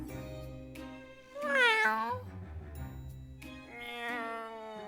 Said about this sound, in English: I meowed at the owner with my cutest expression.